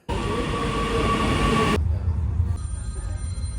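Steady loud rumble and hum of a train interior in motion, with a sudden shift in tone partway through as the carriage noise changes.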